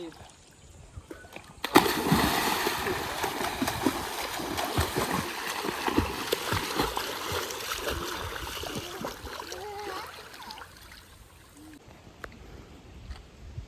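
River water flowing and splashing at a weir where a stream is dammed near a tidal creek in the Konkan countryside, a continuous rushing wash heard close, with people talking over it.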